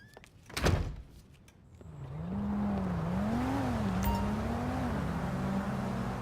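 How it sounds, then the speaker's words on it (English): A car door thunks shut in Grand Theft Auto V, a single sharp slam early on, followed by the steady hum of a car engine starting and idling with a wavering pitch. "Close the door on your way out."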